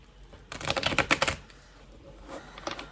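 Tarot cards, a Hermetic Tarot deck, are shuffled in a fast riffle of crisp, rapid flutters lasting about a second, followed by a few softer card taps nearby.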